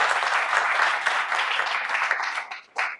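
Audience at a school quiz contest quarter-final applauding a team, a brief burst of dense clapping that tapers off near the end, followed by a short final flurry.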